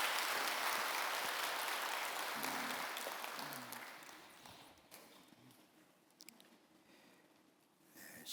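A church congregation at a Korean worship service applauds, a dense wash of clapping that starts loud and full and then thins and fades, leaving a few scattered claps near the end.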